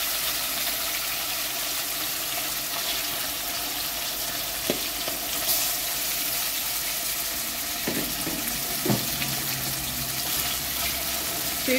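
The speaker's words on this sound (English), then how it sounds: "So you can allow them to brown on each side, and you can also cover your pan." Oxtail pieces browning in a hot pot give a steady, close sizzle and fry crackle throughout, with a few brief clanks and scrapes from stirring.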